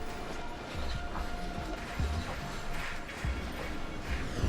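German ICE intercity express train rolling along the track, a steady rumbling roar with faint rhythmic wheel clicks, moderately distant and continuous.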